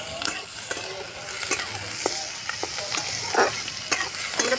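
Chopped onion hits hot white oil with nigella seeds in a pan for a katla fish-oil chorchori, giving a steady loud sizzle and crackle with occasional stirring scrapes and no voices.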